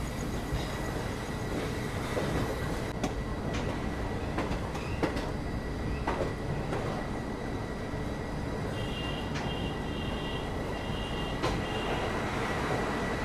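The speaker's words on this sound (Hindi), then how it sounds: "इस वक्त हम सहारनपुर जंक्शन रेलवे स्टेशन पहुंच रहे हैं" Begumpura Express train pulling into Saharanpur Junction at night: a steady rumble of rolling carriages with rhythmic wheel clicks and occasional faint squeals, continuous and fairly close, with no talking.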